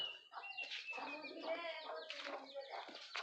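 Chickens cluck and murmur close by in a rural Bangladeshi farmyard, a steady run of overlapping bird calls lasting a few seconds with no talk over them.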